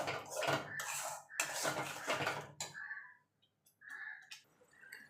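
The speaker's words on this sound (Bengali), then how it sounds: "এবার ভালো করে এটাকে মিনিট খানিক আরও কষিয়ে নেব" Prawn masala for doi chingri is stir-fried in a pan, the spatula scraping and clattering against metal in several loud bursts, then quieter sizzling with a few light knocks.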